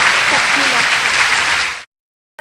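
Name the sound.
applause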